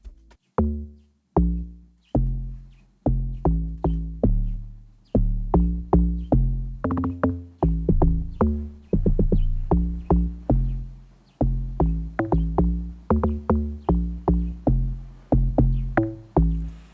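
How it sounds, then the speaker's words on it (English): A punchy, pitched synth log drum pattern in an Afro piano beat plays in a steady groove, with deep tuned thumps repeating in a syncopated rhythm, loud and up front with no voices. "Hessian log drum sounds like this."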